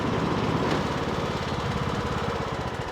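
A Craftsman T110/T140 lawn tractor engine runs steadily and loudly up close, a continuous mechanical drone with a fast underlying pulse.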